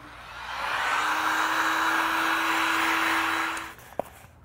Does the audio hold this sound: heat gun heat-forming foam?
yes